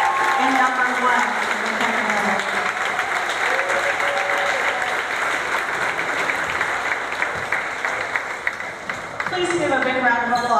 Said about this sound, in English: Give a big round of applause for all of our seniors.